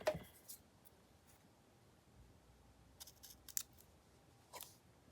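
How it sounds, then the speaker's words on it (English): Scissors snipping paper close by, a few quiet separate cuts and clicks spread over a hushed room, with no one talking. "I'm going to cut it again."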